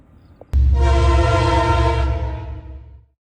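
Norfolk Southern freight train on the Dayton District with the freshly painted 1069 Virginian Heritage Unit, a loud sustained horn blast bursting in close by over a deep rumble of the passing train, then fading away after about two and a half seconds.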